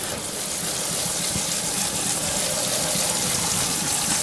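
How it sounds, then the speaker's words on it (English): Cool tap water rushing over pasta in a fine mesh colander in a sink, a steady loud gushing hiss that runs without a break and carries no talk. "I'm going to hit it with some cool water to stop it from cooking."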